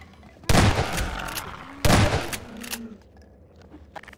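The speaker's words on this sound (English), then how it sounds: "I don't want to waste my fucking ammo by shooting that guy down" Gunfire in the Half-Life 2 video game: two sharp, loud blasts about a second and a half apart, each trailing off into a brief rattling decay, followed by quieter game sounds.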